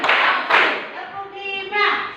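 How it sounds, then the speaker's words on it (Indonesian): Schoolchildren in a classroom clap their hands in unison on a teacher's count, giving a couple of sharp, loud group claps. An adult voice counting aloud runs over and between the claps. "Tepuk 1, tepuk 2, tepuk 3, tepuk 4,"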